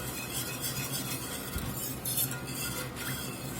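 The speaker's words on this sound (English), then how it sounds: "Try to scrape the bottom of this skillet." A utensil scrapes and stirs across the bottom of a hot skillet while making Swedish meatballs, a continuous close rasping with light clinks and a faint sizzle underneath.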